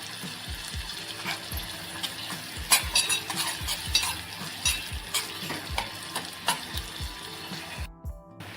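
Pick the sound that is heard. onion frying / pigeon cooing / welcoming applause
onion frying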